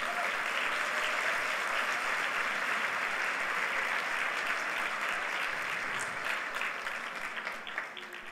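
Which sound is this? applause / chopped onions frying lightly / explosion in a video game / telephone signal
applause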